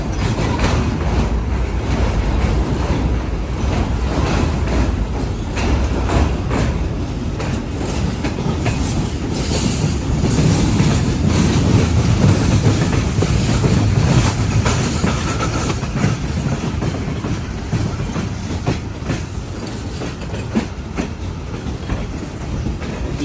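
A freight coal train heads toward Karachi near Kotri, its wagons rumbling past loudly and steadily for over twenty seconds with rhythmic clickety-clack of wheels over rail joints and no talk.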